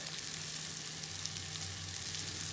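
Peppers sizzle in a pan where leftover cream sauce has turned to oil, a steady close hiss and crackle with no voices.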